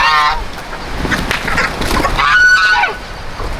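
Geese on a small farm honk loudly and agitatedly, close by, in overlapping harmonic calls, reacting to chickens newly mixed into their flock; the honking runs continuously throughout with no talk.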